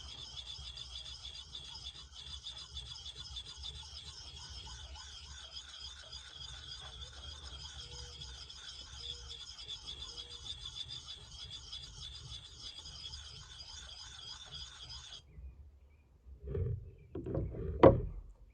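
A hatchet blade is rubbed back and forth on a 400 grit sharpening stone, making a steady, rhythmic rasping scrape for about fifteen seconds. The sound then stops, followed by a few louder knocks and handling sounds.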